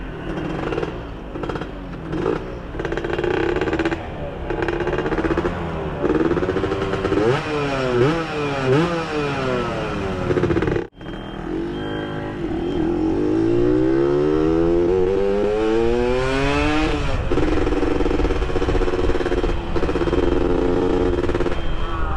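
A motorcycle fitted with an FJP aftermarket exhaust rides past at low speed, its engine burbling and crackling under throttle and rising in pitch through repeated revs and gear changes, loud and close throughout.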